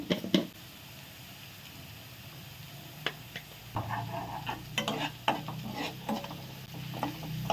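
Shallots and dried chillies fry in hot oil in a pan, with a soft, steady sizzle broken by stirring clatters and scraping knocks of a utensil against the pan, all fairly near.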